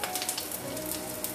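Onion and vegetables frying in a pan for an egg and kangkong dish, stirred with a utensil: a steady close sizzle with soft scraping over a short moment, no voices.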